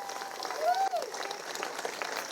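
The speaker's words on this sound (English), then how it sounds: "Juanita McLeod, round of applause for her, walking for all the veterans" Crowd applause at a pow wow for the bearer of the POW MIA flag: steady, moderate clapping from a gathered audience throughout, heard from a distance.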